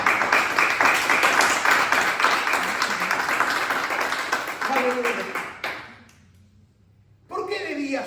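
A church congregation applauds Jesus Christ during a service, a sustained wash of clapping with voices mixed in that tapers off into near silence before a voice starts speaking again.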